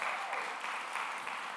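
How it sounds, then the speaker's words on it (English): A congregation at a Sunday church service applauds, a moderately loud, even wash of clapping that holds steady throughout. "Can we give her a round of applause?"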